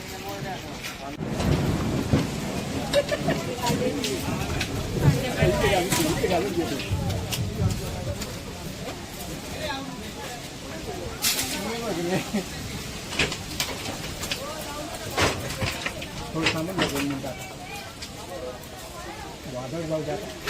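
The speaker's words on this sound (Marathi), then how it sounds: "बारीक बारीक पाऊस येतोय, हवा पण खूप सुटलेली आहे" Strong gusty wind rumbles and buffets over light, pattering rain outdoors on a road with broken branches, with occasional sharper knocks and faint voices in the background.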